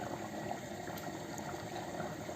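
A pot of lentils at a steady boil, a continuous close bubbling and simmering hiss with no talk over it.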